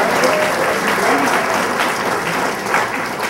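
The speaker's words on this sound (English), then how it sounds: "This is an enthusiastic crowd." An enthusiastic crowd at a Virginia political event claps loudly and steadily, a dense wash of applause that fades slightly toward the end.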